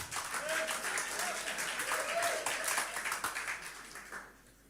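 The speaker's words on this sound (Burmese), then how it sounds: "လက်ခုပ်တီးပြီးကြိုဆိုရအောင်" Congregation applauding to welcome a singer at a Tuesday worship service, sustained clapping with a few voices mixed in, tapering off at the end.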